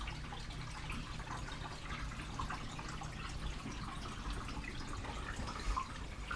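Water circulating through the pump returns of a 500-gallon tank makes a steady, continuous low wash and trickle, even and unbroken throughout, with a faint dripping texture and no voices.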